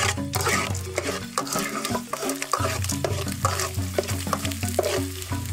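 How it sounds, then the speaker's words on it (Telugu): Dried red chillies fry in hot oil in a pan, making a steady close sizzle broken by frequent scraping stirs and light taps of the spoon. "ముందుగా పెనం పెట్టి ఒక 5-6 స్పూన్ నూనె వేసుకునే కొంచెం కాగినాక ఒక 4 ఎండుమిరపాలు తుంచేసుకోవాలా"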